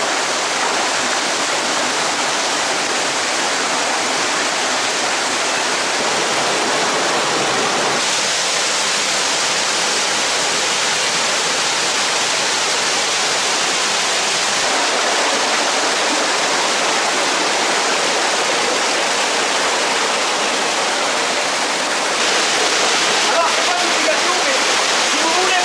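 A waterfall in a Guadeloupe canyon during a trail race gives a loud, steady roar of rushing water that persists throughout, with a voice faintly audible beneath it.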